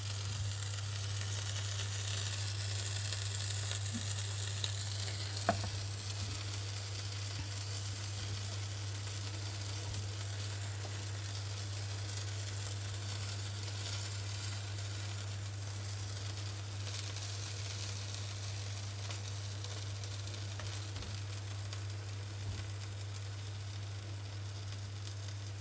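An omelette cooking in a pan, giving a steady, soft sizzle that holds evenly throughout under a low constant hum, with no talking.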